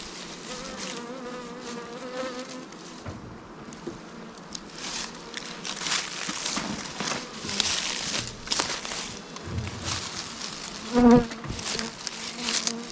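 Honey bees swarm and buzz around hive frames during an afternoon hive inspection, a dense continuous drone close by with shifting intensity and a few louder passes near the end.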